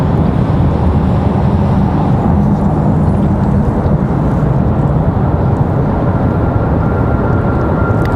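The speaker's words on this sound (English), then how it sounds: "we do have a departure of an A321" A Delta Airbus A321 departs from Raleigh-Durham International Airport, a loud, continuous broadband jet roar with a deep rumble that holds steady throughout, heard from the ground with no talking.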